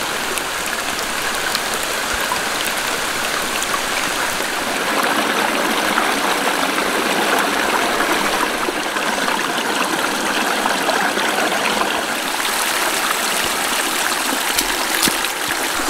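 Water spills over a beaver dam in a steady, loud, broadband rushing and trickling flow, constant and close throughout with no pauses.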